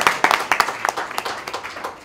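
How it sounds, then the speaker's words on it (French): A scattered round of audience clapping, individual hand claps distinct and uneven at first, then thinning and softening toward the end, close and fairly loud with no voices. "Applaudissez très fort"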